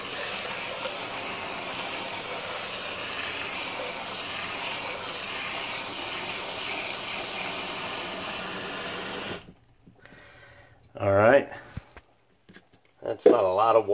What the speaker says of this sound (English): I get the water running hot. And it's running hot.